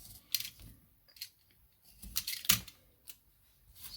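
Scissors snip paper in a quiet indoor craft setting for scrapbook storage, a few sharp, close cuts in an irregular rhythm with short pauses, no talking.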